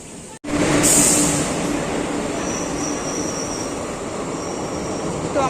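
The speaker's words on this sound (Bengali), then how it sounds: "তো আমাদের ট্রেন চলে এসছে" The Bibhuti Express, a long-distance passenger train, pulls into a station with a loud, continuous rumble of rolling carriages. High wheel squeal and a brief brake hiss ring out close by and last the whole time.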